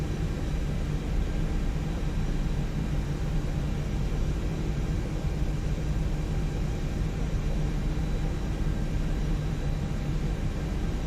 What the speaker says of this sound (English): wait until you hear the sound of the engines, which were recorded from a real A330-300